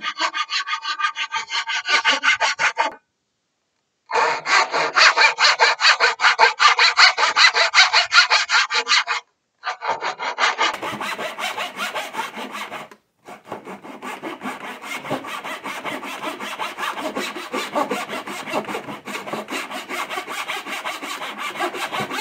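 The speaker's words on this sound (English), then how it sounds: "This is the 16. So this is going to give a little more finer cut." A Veritas backsaw with finer 16 teeth-per-inch cuts wood in steady, rhythmic close strokes, pausing briefly twice before resuming a softer, quicker sawing.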